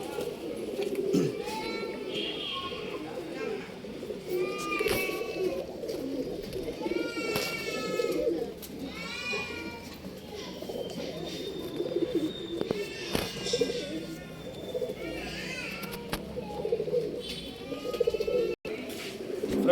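Pigeons kept as pairs for sale coo repeatedly at close range, with soft chirps mixed in and a steady background murmur.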